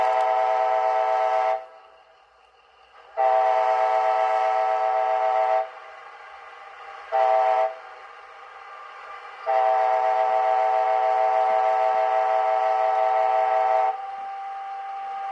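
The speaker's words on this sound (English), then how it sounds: "We'll skip up to F20, which is a grade crossing sequence." A Bachmann HO scale Amtrak ALC42 Charger model plays its grade crossing horn sequence, loud sustained blasts in a long-long-short-long pattern with a faint running hum between them.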